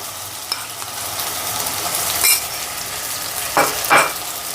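Ginger garlic paste fries in hot oil in a pan for a rohu fish dish, a continuous moderate sizzle broken by a few brief scrapes of the stirring spoon.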